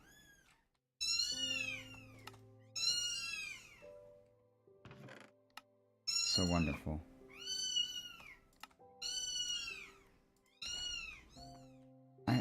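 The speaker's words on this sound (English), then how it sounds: "I bet my viewers absolutely love hearing all these kittens screaming." Kittens in modded Minecraft meow over and over in repeated high, bending cries, loud and close, in bursts across the whole stretch, with someone talking briefly among them.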